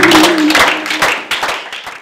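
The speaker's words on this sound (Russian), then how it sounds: "Анатолий Иванович вышел к зрителю под аплодисменты" Theatre audience applauding actor Anatoly Voronkov at his benefit performance in Berdsk, a steady wash of clapping that stays loud throughout with slight dips.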